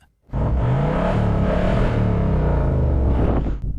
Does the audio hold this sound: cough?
no